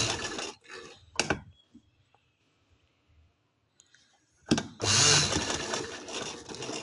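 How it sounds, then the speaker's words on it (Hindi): A sewing machine stitching piping onto a fabric winter sleeve runs in two rapid whirring, clicking bursts, the first brief and the second longer, separated by a quiet gap with faint handling noises, close by and without talk. "इस तरह से हम रखेंगे और साथ साथ सिलाई लगाते जाएंगे।"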